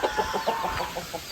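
Chickens cluck softly in a quick, irregular series of short calls, fairly close by in a garden.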